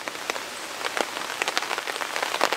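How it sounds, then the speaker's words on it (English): Rain falls at a campsite, pattering steadily on a nearby surface with a dense stream of close, irregular drop hits. "You can probably hear that it is raining here at camp."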